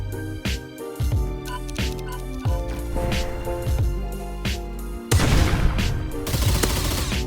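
Rapid gunfire from assault rifles and SMGs in the Roblox game Hypershot, with bursts of shots in quick succession and a denser, louder stretch of firing near the end.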